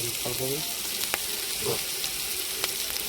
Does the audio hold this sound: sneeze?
no